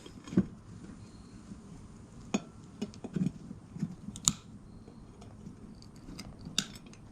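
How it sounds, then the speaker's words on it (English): Side cutters snipping off the valve stem of a lawnmower tire tube, heard as a few small close clicks and snaps spread over several seconds in a quiet room. "I'm gonna cut this valve stem off."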